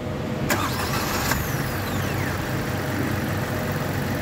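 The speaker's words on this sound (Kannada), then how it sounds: "ಬಟ್ ಕಾರ್ ಎಷ್ಟು ಸೌಂಡ್ ಮಾಡುತ್ತೆ ಅಂತ ಅನ್ನೋದನ್ನ ನೀವೇ ಕೇಳಿಸ್ಕೊಳ್ಳಿ" A Maruti Suzuki Swift 2024 with a three-cylinder Z-series engine idles in a steady, low, even hum, with a couple of sharp clicks and a fading whine near the start.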